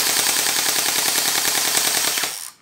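A Terminator gel blaster pistol firing full-auto, a rapid, evenly spaced stream of loud mechanical shots up close that runs for about two seconds and then stops abruptly.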